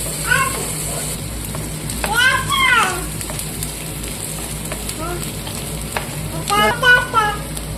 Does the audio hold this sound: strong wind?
no